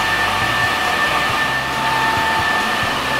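A hair dryer blows steadily on a salon customer's permed hair, aimed at the scalp. The airflow whooshes loud and continuous for the whole stretch, with a faint whine on top and small dips as the dryer moves.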